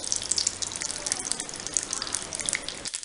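Mustard seeds splutter and crackle in hot oil with dense, rapid popping over a continuous sizzle, close and steady throughout.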